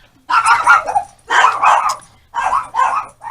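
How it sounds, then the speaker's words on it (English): Several dogs bark in four loud bursts, each a cluster of overlapping barks and yips, separated by short pauses, close to the microphone with no talking. "And excuse the dogs"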